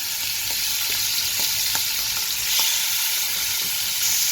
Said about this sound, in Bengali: এবার চিংড়ি মাছটাকে হালকা করে একটু ভেজে নেব।